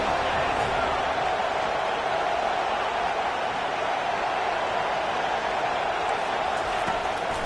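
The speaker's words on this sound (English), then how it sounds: "Decibels rising as the crowd gets behind this defense on 3rd down." Stadium crowd in a college football video game on a third-down defensive stand: a dense, sustained roar of cheering that holds at a constant loud level throughout, with no talk over it.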